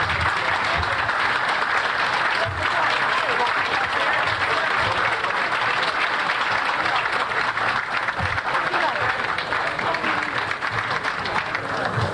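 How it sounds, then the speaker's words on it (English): A crowd at an awards presentation before the Detroit City Council gives a standing ovation, with steady, loud, sustained applause filling all twelve seconds and a few cheers mixed in. "would you please give her a standing round of applause?"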